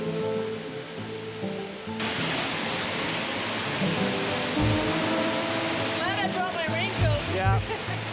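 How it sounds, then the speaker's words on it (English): The roar of Pericnik waterfall, a pair of cascading falls in Triglav Park, Slovenia, gives a broad, steady wash of falling water that persists under other sounds, including a loud hum and whining tones in parts and bursts of nearby noise. "Pericnik waterfall is actually a series of 2 cascading falls."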